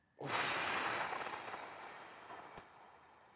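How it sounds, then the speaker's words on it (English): A single deep meditative breath, close and loud, starts abruptly as a broad airy rush and slowly fades over about three seconds, with no talking. "let's take 3 deep breaths just to connect to the here and now"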